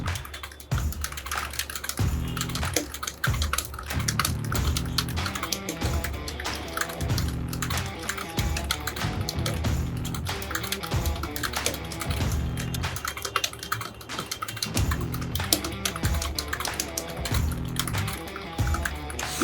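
Fast, continuous typing on a computer keyboard during a typing test, with dense rapid key clicks and occasional heavier strokes, recorded close and steady for the full length with no talking.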